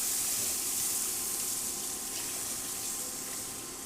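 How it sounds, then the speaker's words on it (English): Tap water runs steadily into a sink, rinsing out a cast iron skillet after cooking on an induction burner; a continuous broadband hiss and splash that fades slightly toward the end, with no talking. "And then I'm going to do a quick rinse."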